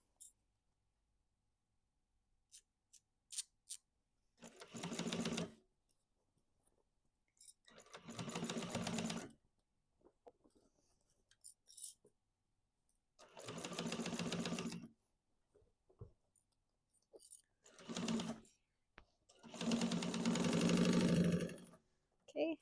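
Home sewing machine running in four separate bursts of several seconds each, stitching the bottom seam of a duffel bag, with short quiet gaps and faint handling clicks between runs.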